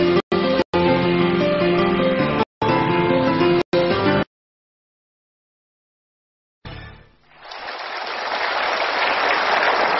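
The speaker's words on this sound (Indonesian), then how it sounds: "tepuk tangan untuk pilihan Anda" A studio audience on an Indonesian television talk show bursts into applause that builds after a pause and swells into loud, dense clapping, following a stretch of music cut by brief dropouts.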